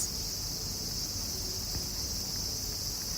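Cicadas drone steadily in a field at night, a dense, continuous high buzzing that stays at an even level throughout with no pauses.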